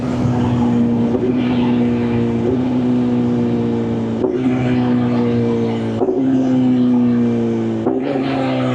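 A BMW S1000RR superbike exhaust drones loudly and steadily as the rider downshifts from sixth to first gear, each of several shifts marked by a sharp jump in engine pitch.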